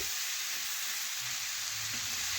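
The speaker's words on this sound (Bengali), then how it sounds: "আমি দুই থেকে তিন মিনিট একটু ভেজে নেব দেখুন এইভাবে নাড়াচাড়া করে ভেজে নিচ্ছি" Vegetables stir-frying in a hot pan for a vegetarian curry, a steady loud sizzle with faint scraping from stirring, close and continuous throughout.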